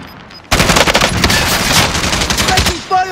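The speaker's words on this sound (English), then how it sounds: "Taking fire!" Warzone video game gunfire, a loud sudden sustained burst of rapid automatic fire that tapers off near the end, with a voice briefly under it.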